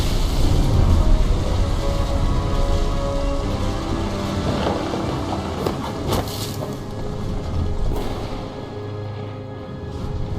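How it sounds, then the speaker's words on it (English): Storm sounds in the video game What Remains of Edith Finch: a loud, steady wash of rain and wind with deep rolling rumbles. A few sharper cracks come midway, then the sound eases slightly toward the end. "The thunder sounded much too close and full of angry power."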